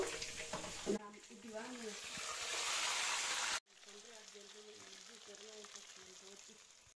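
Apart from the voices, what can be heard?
mustard seeds spluttering in hot oil with dried chillies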